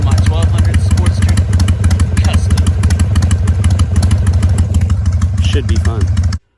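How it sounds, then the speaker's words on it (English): A Harley-Davidson Sportster 1200 Custom motorcycle idles steadily close by, its V-twin putting out a loud, continuous lumpy rumble with some mechanical clatter, before cutting off abruptly at the end. "you saw me with the motorcycle running"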